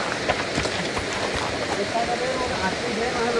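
Flowing water of the Chepe river in Nepal, a continuous close rushing wash at even loudness, with faint voices mixed underneath.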